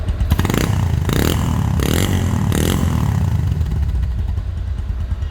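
A Bajaj Discover 135 motorcycle engine runs loud and close, with a steady low exhaust rumble and four brief rev bursts in the first three seconds before it settles to an even idle.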